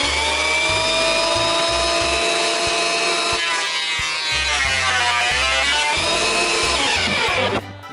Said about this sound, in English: I'm running these floor planking boards for the wall coffee bar through the planer.